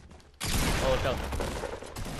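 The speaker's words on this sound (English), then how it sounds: "I shot you with a pump and it did no damage" A pump shotgun in a video game blasts once, a loud broadband burst that rolls into a sustained noisy wash of further gunfire and game action, loud throughout.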